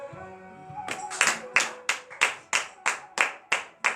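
Rhythmic clapping at a morning prayer gathering, a group striking hands in a steady beat of about ten claps, starting under a voice and tonal background before ringing out clearly alone.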